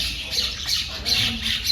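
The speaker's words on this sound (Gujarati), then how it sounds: "કાગડો આવ્યો ને એટલે બધી કાબરો જતી રહે" A crow caws in a series of harsh squawks, about four raspy calls in quick succession, fairly close and clear, with no voices.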